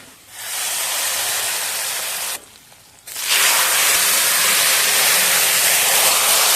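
Fried shallots, dried red chilies and curry leaves tipped from a hot pan into curry, giving a loud, steady sizzling hiss that breaks off briefly, then surges back louder and holds, close up with no talk.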